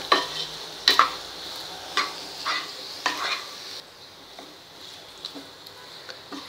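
Potato bhaji stirred in a pan, a run of scraping spoon strokes with light clinks against the metal over a faint sizzle, the strokes fading to quieter scrapes partway through.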